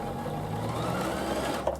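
A Bernina sewing machine runs steadily, stitching a row over piping cord with a continuous close mechanical whir and rapid needle rhythm from start to finish.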